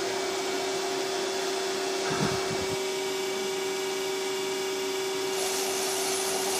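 A massive Droop & Rein jig bore mill hums steadily as an axis is jogged downward, with a faint rising whine and a brief grinding rumble partway through over a constant electrical tone.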